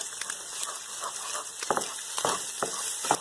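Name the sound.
egg being scrambled and mixed in frying pan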